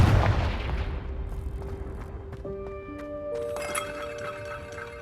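A Confringo blasting spell in Hogwarts Legacy goes off as one loud, deep boom at the start, then fades into a rumbling tail while game music rises.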